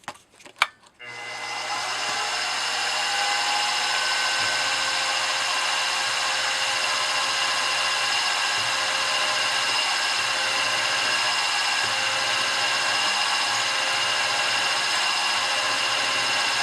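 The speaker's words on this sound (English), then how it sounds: "we'll drill that all the way through." A drill with a Lucky 7 bit bores all the way through a wooden spindle block: a few sharp clicks, then a continuous loud, close whir held steadily to the end.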